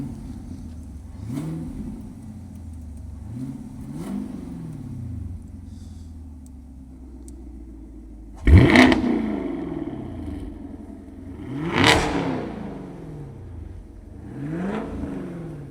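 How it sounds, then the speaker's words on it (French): A car engine is blipped repeatedly, each rev rising and falling in pitch, first moderate, then a loud sudden surge midway followed by two more strong revs, heard close with no talking. "Mais nous, quelques coups de gaz."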